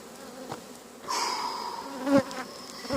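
Honeybees buzzing at a double-deck hive during feeding and foundation-comb work, a dense close swarm hum that swells louder partway through and keeps droning steadily, with no talk.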